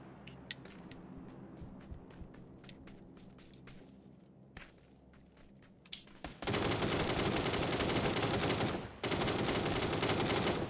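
Automatic rifle fire in a PUBG match on Xbox, starting with sparse distant shots and footsteps, then erupting into a loud, sustained burst of rapid gunfire that breaks briefly before resuming.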